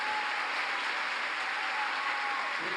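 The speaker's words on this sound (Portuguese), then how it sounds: "Aplauda mais forte." Sustained applause from a church congregation fills the space, a dense, steady wash of clapping at even loudness with no voices over it.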